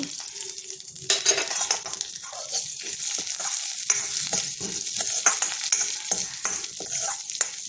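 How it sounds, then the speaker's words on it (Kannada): Sesame seeds dry-roast in a pan along with green chillies, giving a dense crackle and hiss. A spatula scrapes and stirs with a busy, continuous rhythm, close up. "ಅದಕ್ಕೇ ಎಳ್ಳು ಹಾಕ್ಕೊಂಡ್ಬಿಡೋಣ ಅದನ್ನು ಹುರ್ಕೊಳ್ಳೋಣ"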